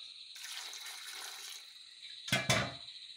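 Water poured from a vessel into a pot of mixed-vegetable sambar in a home kitchen, a soft trickling stream over about a second and a half, then a short louder splash and clatter, quiet overall.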